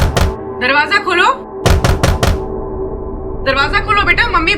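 Knocking on a house door during a Hindi crime drama: a few sharp knocks come in a quick cluster, with loud voices talking before and after them.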